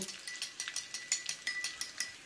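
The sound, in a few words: stirring spice paste with water for chilli chicken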